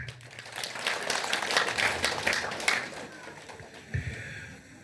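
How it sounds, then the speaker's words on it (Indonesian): Guests at a thanksgiving celebration for a nun's final vows clap together. The applause swells for a couple of seconds, then fades, with a voice briefly at the end. "Kita mesti tepuk tangan dulu Bapak Mama sekalian."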